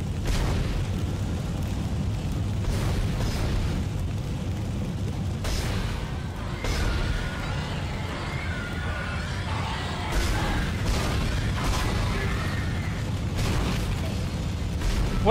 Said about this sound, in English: Collision? More like an explosion.